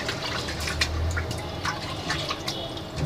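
Soaked rice and lentils are washed in water, with close sloshing, swirling and trickling of water against grains in a container and small splashes throughout.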